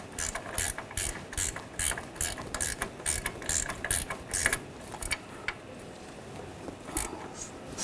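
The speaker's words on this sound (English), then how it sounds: "Tighten this nut." 18mm ratchet wrench tightening the nut on the front lower control arm of a 2014-2018 GMC Sierra 1500, a quick run of close, crisp clicking strokes that slows and thins toward the end.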